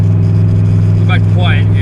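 Loud, rough exhaust drone from a 1986 Mustang GT with its electric cutout open, idling steadily and continuously up close, with a voice talking over it partway through.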